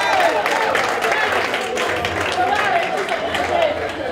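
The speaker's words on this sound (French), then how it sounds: "Applaudissez très fort pour vous" An audience at an awards night in Madrid claps loudly in a sustained burst, with crowd voices and chatter mixed into the applause.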